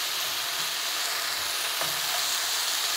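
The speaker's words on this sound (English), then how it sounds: "This is where I'm going to add the pineapple, because I want the pineapple to caramelize a bit as well." Pineapple and chicken fry in a wok over full flame, giving a steady, dense sizzle throughout with a faint stir-scrape partway through.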